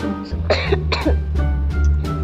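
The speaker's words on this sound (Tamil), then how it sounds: "இருமல் வர" A person coughs several times in quick succession, a few rough throat-clearing bursts close by over a steady low background hum.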